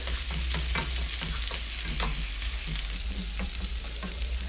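Finely chopped shallots and ginger frying in a pan for green mango chammanthi powder, a steady close sizzle with intermittent scraping stirs throughout, no voices.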